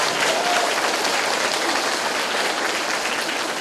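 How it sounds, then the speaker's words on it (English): A school audience of children gives a big round of applause for their music teacher, Mr. Olmos, during Music In Our Schools Week; dense, steady clapping fills the whole stretch without a break. "let's give a big thunderous round of applause for your music teacher"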